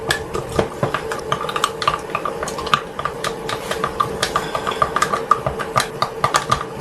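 A spoon clinks and scrapes against a bowl while premium dark soy sauce, light soy sauce and a little water are stirred together at a motorcycle camping site, with a steady low engine-like hum underneath.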